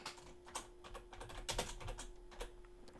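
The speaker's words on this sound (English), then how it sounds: "I'm just going to type Sign Up." Someone types briefly on a computer keyboard, producing quick, close, light key clicks in an irregular burst with a faint steady hum underneath.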